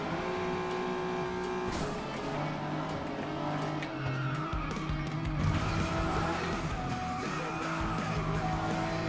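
Car engine revving during a Flatout Ultimate Carnage race: a steady, droning engine runs the whole time with shifting pitch, tire squeal and skidding, plus scattered crashes and knocks at a fairly constant loudness.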